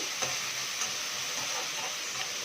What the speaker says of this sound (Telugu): ఎర్రగడ్డ అనేది కొంచెం అలా ఫ్రై అవ్వనివ్వండి